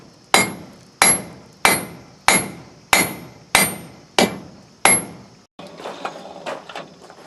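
Eight sharp, evenly spaced hammer blows ring on hot steel at an anvil edge as blacksmith tongs are forged, each strike loud and close with a short metallic decay, followed by quieter clinks and shuffling.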